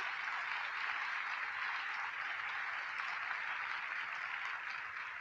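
Steady, continuous applause from a congregation at a religious seminar, moderately distant and even in loudness for the whole stretch.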